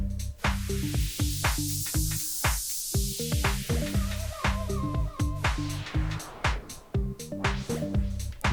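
A Roland DJ-808 controller plays a beat-driven music track while its noise channel effect sweeps a loud hissing white-noise wash over the mix, rising and then fading back, with no talking.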